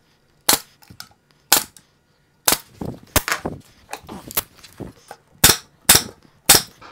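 Pneumatic nail gun firing into cabinet panels while assembling an upper cabinet: sharp, loud cracks at roughly one-second intervals, about eight shots, with light handling clatter between them.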